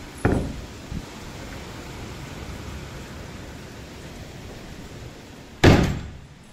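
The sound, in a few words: windows being shut during a rainstorm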